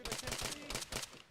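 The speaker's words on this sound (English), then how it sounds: "We're taking fire." Gunfire in the military shooter game Arma, in a NATO versus PLA battle, comes as a burst of rapid, loud, close shots in quick clusters, with voices faintly present.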